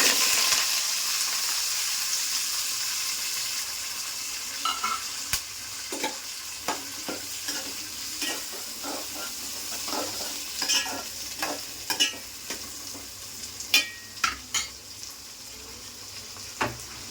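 Small onion pieces hit hot oil and fry with a steady sizzle, broken by sharp clattering stirs and scrapes of a utensil in the pan, close and fairly loud, no talking.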